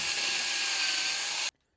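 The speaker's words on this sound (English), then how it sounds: "So what I'll do is put the whole cone drill back on and come at it from the other side." A hole cone drill enlarges a hole in a car panel on a 1996 Jaguar XK8, grinding steadily at high pitch for about a second and a half before stopping abruptly.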